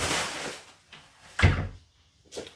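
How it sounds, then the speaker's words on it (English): A door is pushed shut in a room, with a few soft shuffling bumps followed by a firm thud, then a lighter knock as it settles, heard close and alone. "let me close this door"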